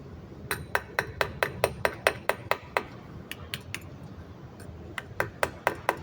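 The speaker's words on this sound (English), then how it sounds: "So that's the emulsion tube tapped out." A Keihin PWK carburettor emulsion tube is tapped out with a hammer, giving a rapid series of sharp metallic pings, then a short pause and a few more taps, all close and clear.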